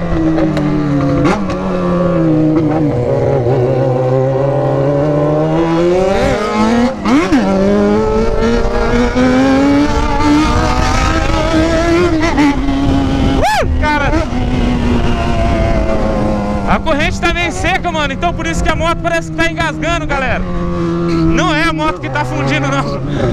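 Motorcycle engine revving hard and climbing through gear after gear, its pitch rising and dropping repeatedly in a continuous loud roar.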